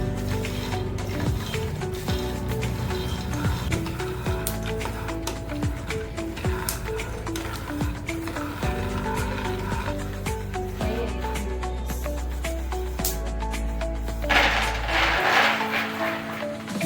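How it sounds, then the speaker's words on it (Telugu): A mixer grinder whirs steadily as it grinds roasted, peeled ingredients for kajjikayalu, a constant motor drone with rattling ticks throughout and a brief shift in tone near the end. "మిక్సీ పెట్టాలి."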